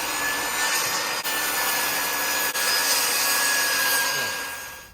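A power saw ripping wooden boards into 1.5-inch-wide strips, a loud, steady whine and rasp of the blade cutting continuously, with two brief dips as the cut shifts.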